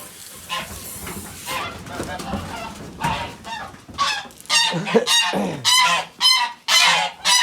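Geese honk loudly and close by on a farm, and their calls come in repeated harsh bursts that grow more frequent toward the end. Soft background noise and a faint voice sit under the calls.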